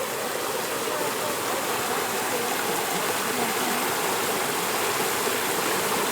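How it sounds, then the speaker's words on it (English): Moonshine Creek at a campground rushes in a dense, continuous wash of flowing water, loud and close, with no breaks. "Oh, you can actually sit in the creek."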